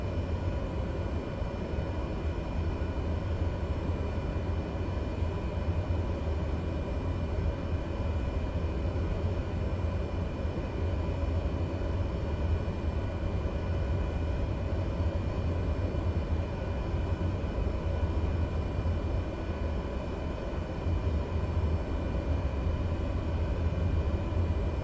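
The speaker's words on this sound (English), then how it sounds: "Taxiing to general aviation parking using taxiway Delta" A Cessna Caravan 208 single-turboprop airplane taxis to general aviation parking in Microsoft Flight Simulator 2020, its engine a steady, loud, continuous low drone held without a break for the whole stretch, with no talk.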